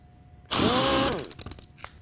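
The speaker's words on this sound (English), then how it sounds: "Let me try the one-finger test with the Model 890 sander." An older Sioux Model 890 sander, jumpy and hard to control, bursts into a loud, close, rough whir for under a second, then trails off into scattered clatter and knocks.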